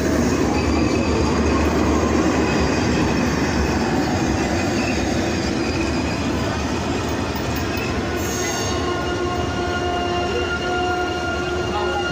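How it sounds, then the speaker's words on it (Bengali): Madhumati Express, an 11-carriage Dhaka–Rajshahi passenger train, runs past with a steady loud rumble of wheels on rails and thin sustained wheel squeals throughout, without talk. "দেখুন, 11টি বগি নিয়ে চলছে মধুমতি এক্সপ্রেস ঢাকা রাজশাহী ঢাকা।"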